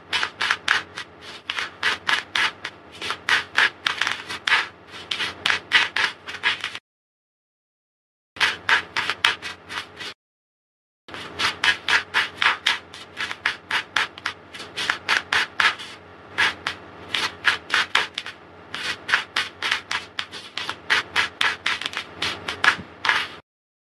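Tarot cards shuffled by hand in rapid bursts of crisp riffling and rubbing, each run made of quick repeated flicks, with two short pauses between runs; close and fairly loud with no talking.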